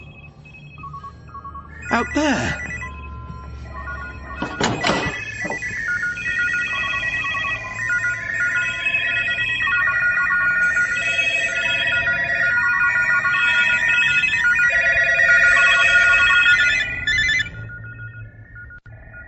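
A telephone in a house rings repeatedly in a steady electronic trill for most of the stretch, with sharp knocks and rustles near the start and a voice speaking briefly over it.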